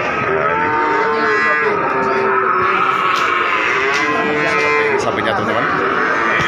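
Several cows low in long, wavering moos, one after another, against a constant hum of crowd noise at the busy Wonoasih cattle market in Probolinggo, Java.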